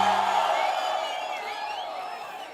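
Crowd cheering at a political rally in Ramanathapuram, Tamil Nadu, a loud mass of voices and whoops that gradually fades.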